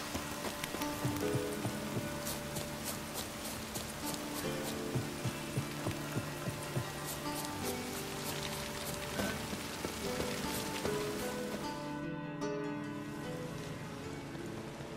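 Steady rain falls on surfaces in The Witcher 3: Wild Hunt, a constant soft hiss of drops that fills the whole stretch at a low, even level with no talk over it.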